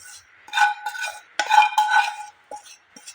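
Semolina roasting in a pan for a sweet is stirred and scraped, giving close, dry scraping strokes in irregular bursts with short pauses between them.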